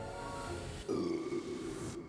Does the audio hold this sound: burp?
yes